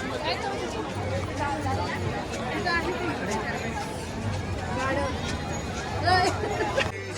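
A large crowd of pilgrims on the Alandi to Pune wari walk fills the air with constant chatter and babble, many voices close and distant blending with footsteps and movement.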